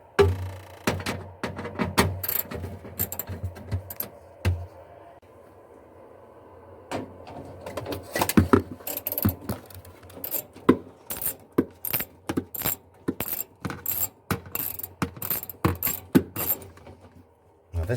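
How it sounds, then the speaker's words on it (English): Metal clinks, jangles and thunks come from undoing three bolts on the back of a Kenmore fridge being repaired for noise, with scattered sharp metallic taps and a dull handling knock, fairly close and with no speech. "Next, you have these 3 bolts in the back that you have to undo"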